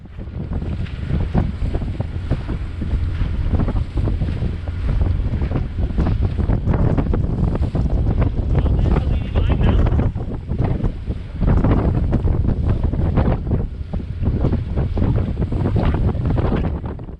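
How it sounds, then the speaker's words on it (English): A sailboat motors and sails down the Solent, with strong wind buffeting the microphone in loud gusts over a rushing water wash and a steady low rumble, no voices. "So we motored and sailed down the Solent and made our way to the Beaulieu River."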